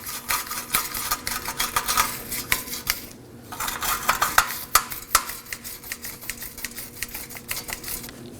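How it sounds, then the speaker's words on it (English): A small wire brush scrubs a car wheel hub surface during a rear wheel bearing and hub assembly job, giving rapid, uneven scratchy strokes with a brief pause partway through. "we're going to use a small wire brush, and we're going to just"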